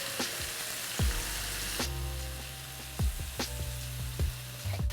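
About a pound of medium shrimp frying in a pan, a soft steady sizzle punctuated by several sharp clinks and scrapes as they are moved around.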